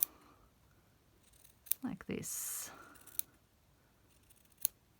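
Scissors snip around the edge of a fabric-covered button, a few brief close crisp cuts and a longer scraping rasp, with sparse quiet talk between them.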